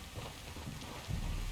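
Steady rain falling in the video game Red Dead Redemption 2, a continuous close hiss of drops on surfaces that swells slightly louder toward the end, with no voices.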